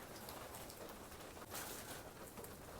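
Steady rain patters outside a trail shelter on the Appalachian Trail, a dense, even hiss of drops on surfaces with no voices, continuous and fairly close throughout.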